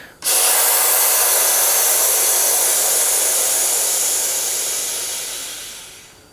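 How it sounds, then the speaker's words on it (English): A very small air compressor runs and struggles to fill an air pressure booster, a loud, steady airy hiss that starts abruptly and holds for several seconds before slowly fading, close by with no talk. "Now my compressor is a little bit struggling."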